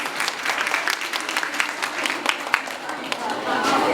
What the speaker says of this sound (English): you all deserve a huge round of applause